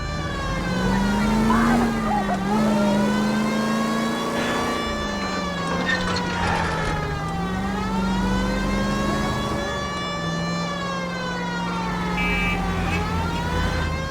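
A wailing siren rises and falls over a roaring car engine in a chase sequence from the video game L.A. Noire, loud and close, with the tone sweeping steadily up and down the whole time.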